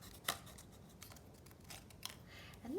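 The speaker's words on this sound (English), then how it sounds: "I'll cut another strip" Scissors snipping through paper to cut strips for a Matisse-style collage, a few distinct sharp cuts spaced about a second apart, close and quiet, with a brief vocal sound at the end.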